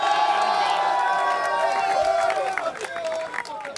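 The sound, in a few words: crowd applause and cheering for esports champions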